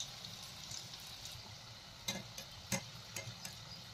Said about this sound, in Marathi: तर वड्या छान आपल्याला खरपूस तळून घ्यायच्या आहेत.